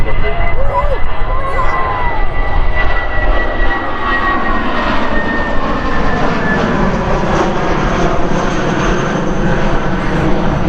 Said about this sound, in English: here comes the Airbus A319 100 back